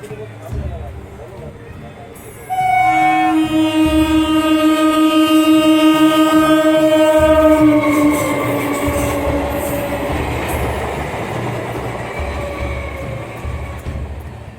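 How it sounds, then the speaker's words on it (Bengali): A train rumbles along steadily, a long blaring horn sounding over it for several seconds before fading into continuous rolling noise. "2 কিলো আঙুর কিনে অমিত কলকাতা থেকে ট্রেনে উঠে পড়ল।"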